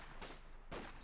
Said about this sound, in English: Firing his pistol out there.